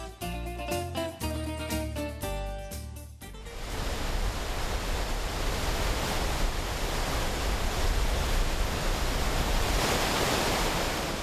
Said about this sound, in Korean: 체겜 지역의 젖줄인 체겜강. 이 힘찬 물줄기를 따라 1시간만 가면 또 다른 풍경이 펼쳐집니다.